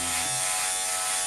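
An electric hair trimmer shaves a head, its close, steady buzzing hum running without a break through the brief moment.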